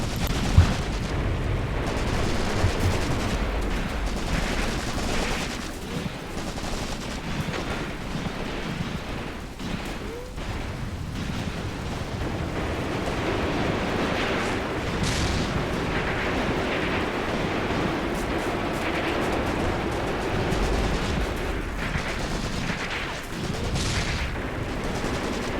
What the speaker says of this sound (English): At least we can see rounds are being exchanged.